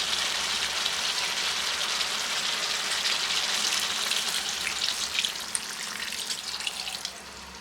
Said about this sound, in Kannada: ಈಗ ಇದಕ್ಕೆ ಅರ್ಧ ಕಪ್ ಆಗುವಷ್ಟು ನೀರು ಹಾಕೊಳ್ಳೋಣ